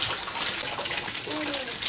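During a house renovation, heavy rain pours steadily outside and water runs into a bucket, a dense continuous hiss and gush close by, with a voice briefly heard underneath.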